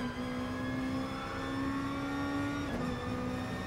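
A Super GT race car in Gran Turismo Sport, driven on the Tsukuba circuit, holds a steady high engine drone at constant speed, with a brief dip as it shifts near the end; no talking.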